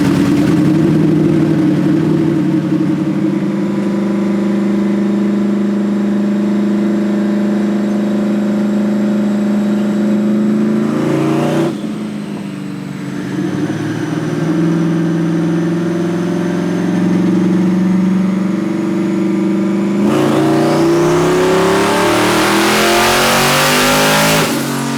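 A Powerglide-equipped Mustang roaring on a dyno, the engine holding loud sustained high revs, dipping briefly around the middle, then surging again with a sharp rising rev near the end, close and overpowering with no talking.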